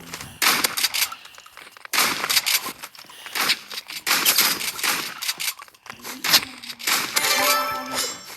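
Video game gunfire crackles in repeated bursts of sharp shots with metallic pings, loud and close, ending in a tonal chime.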